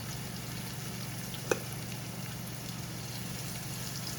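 Okra fries in a hot pan for Southern fried okra, giving a steady dense crackling sizzle throughout with one brief sharp click partway through.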